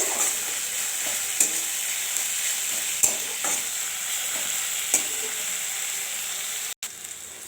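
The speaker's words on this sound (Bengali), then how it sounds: "পেঁয়াজটাকে ভেজে নেব ভালো করে।" Chopped onion and green chilli frying in oil after garlic, a steady close sizzle with a few clicks of a spoon stirring against the pan and a brief bump near the end.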